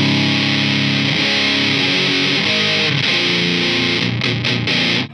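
Loud, thick fuzz-distorted electric guitar through a budget pedal, chords sustaining with heavy saturation and a few choppy stops near the end before cutting off.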